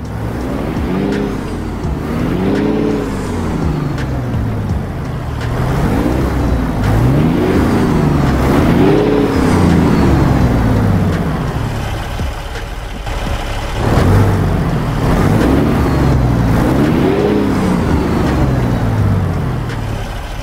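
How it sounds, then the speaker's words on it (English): Peterbilt 379 with a 625 HP Caterpillar engine mod in American Truck Simulator revs and shifts repeatedly, loud deep engine climbing in pitch and dropping between gears, with rumbling throughout. "it's the same Caterpillar 625 HP as the real truck, alright? So let's hear it"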